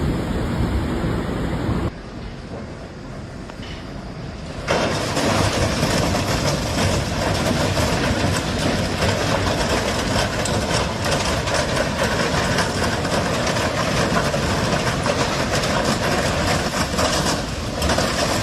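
A train running over flooded tracks, a loud, dense, continuous rushing roar of water and rolling wheels that dips briefly near the start before surging back and holding steady.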